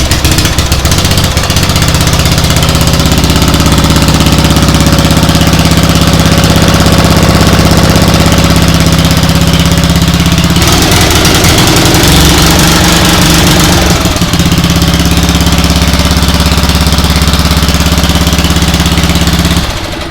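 A vintage Wizard 8 lawn mower engine runs steadily and loudly at close range, with a rough knocking idle that rises in intensity for a few seconds midway before settling back.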